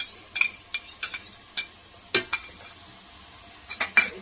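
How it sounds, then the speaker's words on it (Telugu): Coconut masala paste frying for mushroom curry, with a low sizzle broken by a series of sharp, irregular scrapes and clinks of a spoon against the pan, close and distinct with quiet gaps between. "ఇందులోనే కొబ్బరి మసాలా పేస్ట్ వేసేసుకొని ఇది కొంచెం ఫ్రై చేసుకోవాలి."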